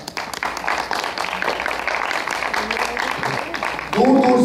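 An audience claps steadily for a community event's organising committee, a dense wash of applause mixed with voices throughout, ending with a louder burst of tonal sound near the close.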